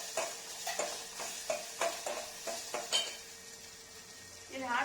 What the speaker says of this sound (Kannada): ಎಲ್ಲಾನು ಹಾಕೊಂಡು ಚೆನ್ನಾಗಿ ಫ್ರೈ ಮಾಡ್ಕೊಳ್ಳೋಣ